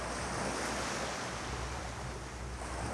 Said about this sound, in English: I'm watching the waves break.